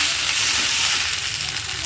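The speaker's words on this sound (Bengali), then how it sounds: "মশলা দিয়ে খুব ভালোভাবেই ভাজা হয়ে গেছে" Vegetables with spices frying in a pan, pumpkin among them, giving a steady, close, full-band sizzle that holds evenly throughout with no talking over it.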